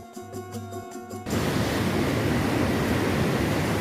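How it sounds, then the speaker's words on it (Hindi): Rushing water of the Saraswati river at its source in the Himalayas pours out in a loud, steady, close roar that begins abruptly after a brief stretch of tonal music and then continues unbroken. "सरस्वती नदी की ध्वनि भी, जिसे सुनकर आपको पता चलेगा उनकी आवाज़ कितनी तेज है।"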